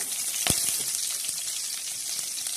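Curry leaves sizzling in hot oil for a tempering, with a sharp crackling burst at the start and a steady frying hiss that continues close and loud.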